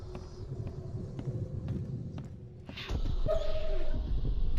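A dog in The Sinking City video game whimpers and yips in short, soft, repeated cries over a low ambient bed, joined by a brief louder burst of noise near the end.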